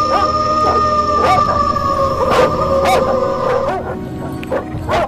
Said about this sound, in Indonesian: pendengarannya menangkap suara rolongan anjing dari dalam hutan dengan jumlah banyak